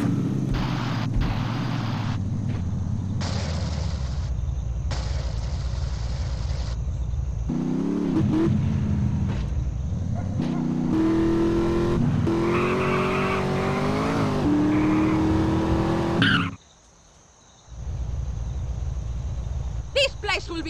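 A car in Grand Theft Auto: San Andreas drives fast with a roaring engine, tires squealing and skidding, loud and continuous with brief gear shifts and a short drop out near the end, while characters talk over it.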